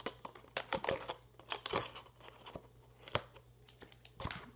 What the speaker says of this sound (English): cut the strip off